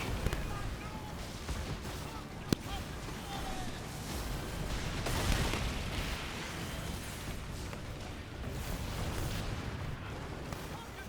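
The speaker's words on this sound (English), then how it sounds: "You see the bombard towers there that are firing off." Bombard towers on a fort firing in the naval game Skull and Bones during an assault on Fort Wolvenhol: continuous rumbling cannon blasts and explosions fill the scene, with one sharp, loud crack standing out early on.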